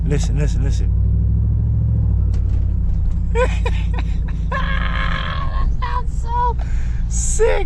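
Deep, rumbling idle from a 2008 GMC Yukon Denali with a modified exhaust, throaty drone steady and loud, while someone talks excitedly over it.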